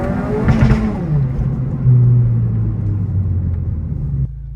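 A 2022 Honda Civic Si engine drones steadily while driving, its pitch rising briefly, then settling into an even cruise hum with road rumble. It stays close and continuous with no talk, then drops off abruptly near the end.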